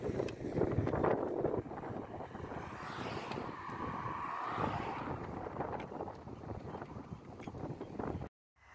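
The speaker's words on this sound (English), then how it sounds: "we soon found ourselves cycling against a wind that apparently reached speeds of up to 35 kilometers an hour" Strong headwind of around 35 km/h buffeting a microphone on a bikepacking ride toward the Normandy coast, a steady loud roaring rush that fills the whole clip before cutting off abruptly at the end.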